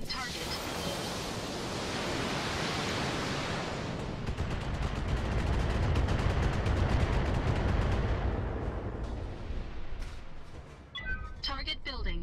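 Mech weapons blasting a generator in Battletech: a long heavy roaring barrage that swells and holds for several seconds, then fades into scattered impacts and clatter, with a voice speaking faintly under it.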